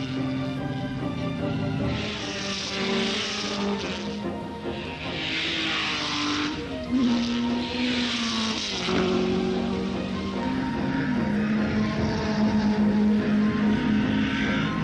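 Cooper Maserati and other Cooper racing cars from the 1961 New Zealand Grand Prix scream past at high revs, engines rising and falling as they pass, loud and continuous, with one car nursing a sick engine.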